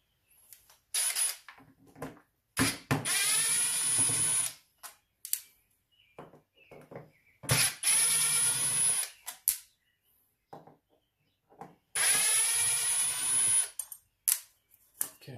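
Power driver running in three separate bursts, each a few seconds long, as Torx 20 screws are backed out of a horse trailer latch, with short clicks and handling noises between bursts and no talk.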